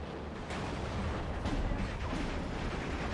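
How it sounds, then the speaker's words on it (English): IG-33 infantry gun firing in the Steel Division 2 war game, a dense, continuous roar of distant battlefield gunfire and artillery rumble with no clearly separated shots. "This IG-33 wants to get a shot in."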